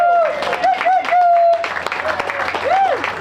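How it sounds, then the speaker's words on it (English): An audience at a YouTube meetup with guest speakers breaks into a loud, continuous round of applause, with whistles and cheers rising over the clapping in an indoor hall. "let's give a big round of applause"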